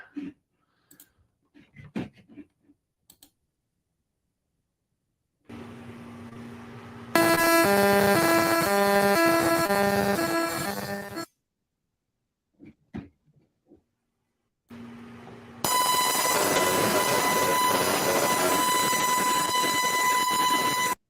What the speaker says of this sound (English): that wicked annoying noise that you're hearing is actually sound that's being transmuted through a laser into the air